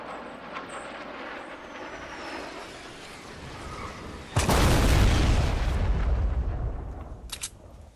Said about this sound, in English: somebody's got one of those remote control rockets